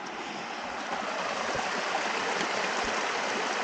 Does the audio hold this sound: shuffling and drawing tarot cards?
no